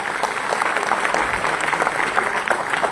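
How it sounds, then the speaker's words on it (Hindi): A crowd at a seminar near ITO in Delhi breaks into loud, sustained applause, dense clapping that holds steady and close for the whole stretch. "जोरदार ताली होनी चाहिए"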